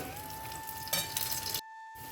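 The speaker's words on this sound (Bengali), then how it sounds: "ভালো করে কষিয়ে নেবো এটাকে আমি" Banana flower and prawns being stir-fried for mocha chingri ghonto give a soft, steady sizzle in the pan, with a sustained tone over it and a short gap near the end.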